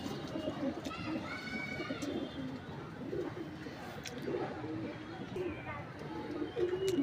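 Pigeons cooing faintly in a pet-bird setting, soft low calls repeating under nearby talking and background clatter.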